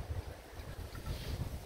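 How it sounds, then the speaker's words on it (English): Wind blowing steadily outdoors beside a cottage in the evening, a broad rushing roar with low gusty buffeting against the microphone. "But the wind has been coming from the left side and or east, and it's blowing towards the west"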